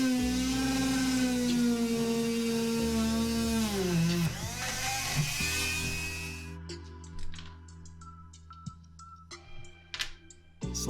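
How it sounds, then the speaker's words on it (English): A high-pitched variable-speed Eclipse rotary tool, used as a drill, whines steadily, its pitch dipping as it bites into material, then winds down into scattered clicks and light tapping. "The rotary tool also acts as a power drill and includes 2 drill bits."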